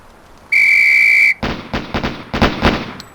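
In the police shooting-range game Police Quest: SWAT, one loud, sustained whistle blast signals a failure drill. A quick burst of close, sharp pistol shots follows in uneven pairs and groups.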